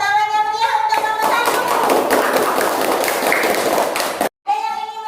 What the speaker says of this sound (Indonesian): Tepuk tangan yang meriah untuk kelompok